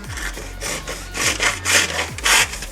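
Wood is sawn with a sharpened improvised blade: a series of rhythmic back-and-forth rasping strokes, close and fairly loud, with no voices.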